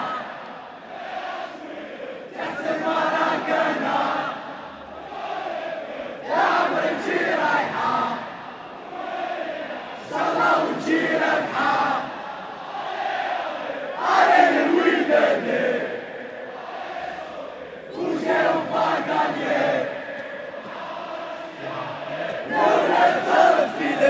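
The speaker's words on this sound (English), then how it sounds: "whenever Wydad has the ball, you hear a lot of cheering and support" A stadium crowd of Wydad fans chants and roars at a football match against Mamelodi Sundowns, with loud surges rising and falling in repeated waves throughout.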